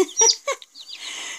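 Newly hatched silver duckwing Leghorn chicks, two days old, give a few high, thin peeps and soft clucking chatter close by, with no voices.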